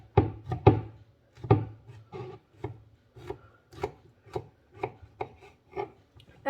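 A knife chops a courgette into small pieces on a board for a quiche, giving a steady series of sharp, close taps at an irregular rhythm with no talking.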